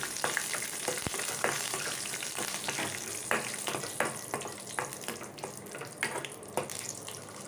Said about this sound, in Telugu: నెయ్యి అయితే వేడైందండి ఇప్పుడు ఇందులో డ్రై ఫ్రూట్స్ వేసుకొని ఫ్రై చేసుకోవాలి